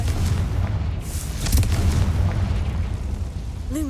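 The Confringo explosive spell in Hogwarts Legacy lands as a booming, rumbling blast with a sharp crack in the middle, sustained low thunder beneath it and no speech.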